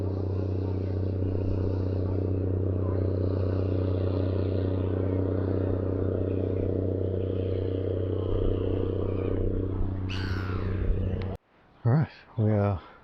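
A non-steam paddle boat engine drones steadily with a deep, even rumble, loud and continuous, then cuts off as people speak briefly at the end.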